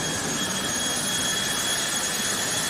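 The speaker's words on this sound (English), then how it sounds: "You can see the jet engine is literally sitting almost beside the driver." Jet-engine race car at a night drag-racing event, its turbine letting out a steady roaring whine with a piercing high hiss, loud and unbroken throughout, no talk.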